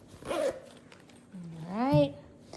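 The zipper on a small Vera Bradley cosmetic pouch in Dreamer Paisley is opened with two quick, close zip pulls, the second accompanied by a brief vocal sound.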